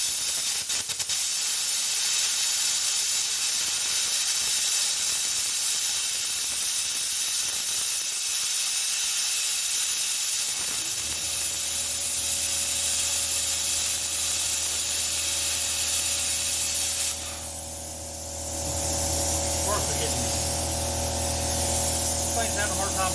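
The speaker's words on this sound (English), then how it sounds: "Just having a hard time cutting through that right now." A budget pilot arc plasma cutter running at 50 amps and 70 PSI on 220 volts struggles through metal with a loud, continuous hissing rush of air, later joined by a low electrical hum and a brief drop in the hiss.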